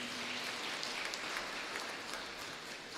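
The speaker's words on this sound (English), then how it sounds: "Let's give them a big round of applause." A church congregation applauds a youth choir at an annual shrine feast Mass, a steady, dense wash of clapping holding evenly throughout, somewhat distant and reverberant.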